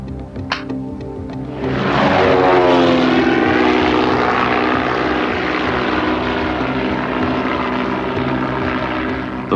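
Propeller airplane in flight on the route north to the border town of Chitral, its engine drone swelling from quieter cabin ambience into a loud, steady roar that holds with a slowly shifting harmonic whine.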